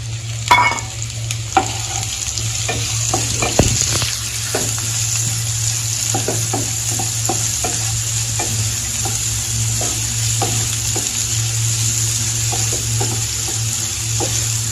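Chopped carrots fry in a pan in a village kitchen, a steady sizzle under repeated scraping and clicking stirs, close and alone with no talk.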